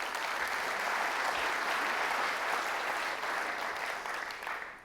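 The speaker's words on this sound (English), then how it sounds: "So I'd really appreciate it if you'd join me in giving them a round of applause." A conference audience at a business executive forum breaks into a dense, loud round of clapping that holds steady for several seconds and then tapers off at the end.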